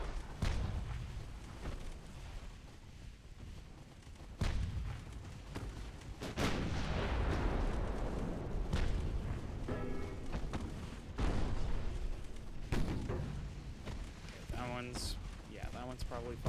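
Naval gunfire in Ultimate Admiral Dreadnoughts, set in 1890 with French ships: several heavy booming shots spaced out over the stretch, mid-distance and fairly faint, with a player talking between and over them.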